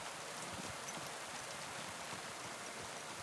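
Steady rain falls across a medieval outdoor scene in Kingdom Come: Deliverance II, an even, dense hiss without breaks or voices.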